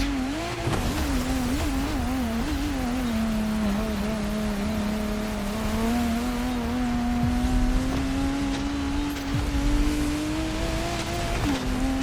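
A Lotus Emira is driven in the racing game The Crew Motorfest, its engine droning steadily and loudly throughout, the pitch dipping and rising with changes in speed, with faint tire noise beneath.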